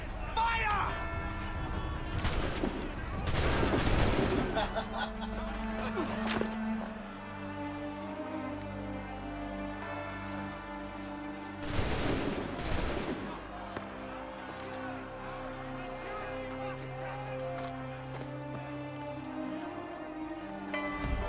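A volley of musket fire aimed at Redcoats cracks out in two loud, dense bursts, the first near the start and the second about ten seconds later, with voices and a low background rumble in between.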